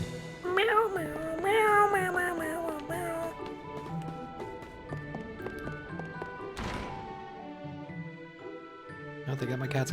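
A pet cat meows several times, near and fairly loud, in rising and falling calls over game music and sounds, with later clattering noises.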